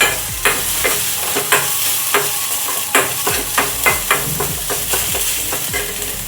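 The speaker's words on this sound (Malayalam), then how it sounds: "അപ്പോൾ അതുകൂടി ഇട്ടിട്ട് നമുക്കൊന്ന് ഇളക്കി കൊടുക്കാവേ." Ingredients for rasam being stirred and sautéed in a pan, with repeated scraping strokes of a spoon over a steady close sizzle, no talking.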